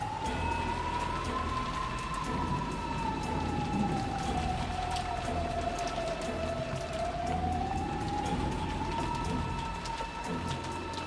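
Steady, dense rain hisses continuously in the Umineko visual novel, a constant wash of falling water with a faint wavering tone weaving through it.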